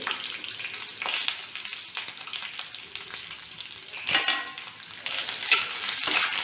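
Onion and green chillies sizzle in a hot pan while being stirred, producing a steady crackling fry with occasional louder scrapes and clinks of a spoon against the pan.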